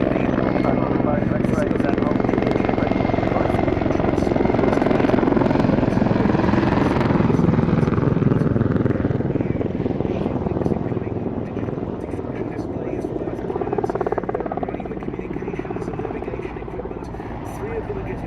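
A Mil Mi-24 Hind helicopter flies at the Duxford Battle of Britain air show with a loud, steady rotor and engine roar that slowly fades, while a voice talks over it.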